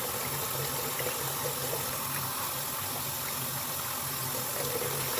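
Tap water runs steadily into a sink while a makeup brush is wet for cleaning with baby shampoo, giving a constant close hiss and splash with no talking.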